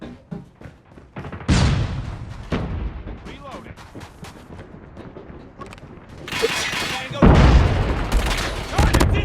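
Gunfire in Call of Duty Mobile: loud, rapid bursts and booming shots from close range in repeated volleys, with a player talking over the action.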